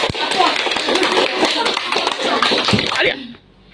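Classroom applause for a student who answered, a dense burst of clapping from many hands mixed with children's voices, loud and sustained before stopping abruptly.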